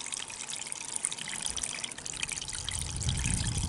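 Spring water that has seeped up through the ground trickles and splashes steadily out of a collection tank's outlet, a soft, continuous close-up burble with no voices.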